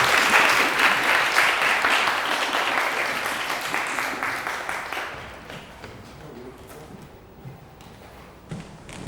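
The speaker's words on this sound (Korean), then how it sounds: "여기 시립미술관과 여기 안데스 작가님에게 박수 한번 주십시오" Audience applause at a city art museum lecture on techno music, loud clapping at first that gradually thins into scattered claps and fades out.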